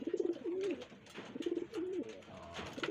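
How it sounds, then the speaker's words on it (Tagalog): Racing pigeons coo at the loft, giving several soft, rolling coos that repeat close by over a steady background hum. "Si Red 977, Ready 977 mga kalapatids yan"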